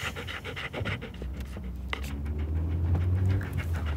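A dog pants rapidly and rhythmically at close range, with a soft whimper mixed in, the breathing steady and continuous under light background noise.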